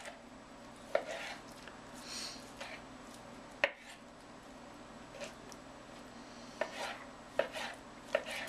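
A knife trims excess fat off meat for fajitas: a handful of faint, sharp taps and clicks on a board, spaced irregularly over a quiet kitchen background.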